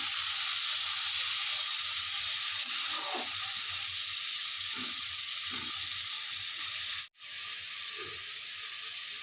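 Snakehead fish fries in a pan with a loud, steady hiss of hot oil, while a spatula stirs and scrapes at intervals under the constant sizzle.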